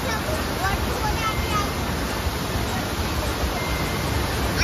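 The large Kanchenjunga Waterfall in Sikkim produces a loud, dense, unbroken roar of rushing water that stays steady and fills the whole scene from start to finish.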